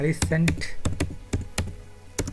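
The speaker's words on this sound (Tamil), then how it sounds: "டைப் பண்ணிவிட்டு ஓகே கொடுங்க." A computer keyboard on a Windows 10 PC clatters with quick, sharp keystrokes in irregular bursts. A person speaks briefly at the start.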